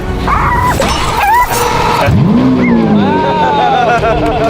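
A Lamborghini engine starts and revs close by, a rising roar that swells and falls over a few seconds while people talk over it.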